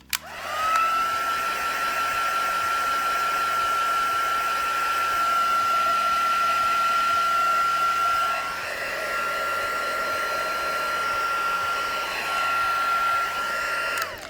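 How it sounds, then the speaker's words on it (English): A heat gun drying papercraft work blows steadily in a loud, continuous whine, nearby and alone, for most of the time before it switches off. "let's give her a quick dry with the heat gun"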